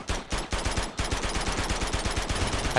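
Rapid automatic gunfire from a firefight in the video game Uncharted 2: dense, close bursts of shots rattle almost continuously for about three seconds, with only a brief gap early on.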